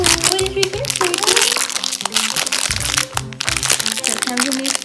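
Foil blind bags for toy surprises crinkle and crackle in short bursts as they are handled and torn open, close and loud, under a person talking and someone speaking.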